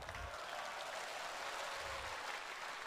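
Audience applause at a political rally in Sabah, a steady dense clapping from a crowd that holds throughout without a break.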